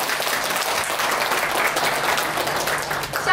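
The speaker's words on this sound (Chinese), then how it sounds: "让我们以热烈的 掌声对大家的付出表示衷心的感谢。" A crowd at an inauguration ceremony gives warm, sustained applause, dense and steady clapping filling the room for several seconds without speech.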